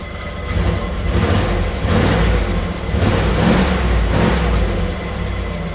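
Engine of an old childhood dream car running as it is shifted into drive, a steady loud rumble with rising surges of revving, no talking over it.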